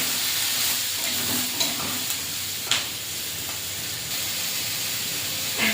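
Eggplant and potato with salt, chili and turmeric sizzle steadily in a pan while a utensil stirs them, giving several sharp scrapes and clinks over the constant hissing fry.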